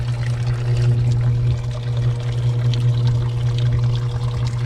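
Steady trickling and pouring water over a constant low mechanical hum from a swamp cooler draining and pumping, continuous and fairly loud throughout.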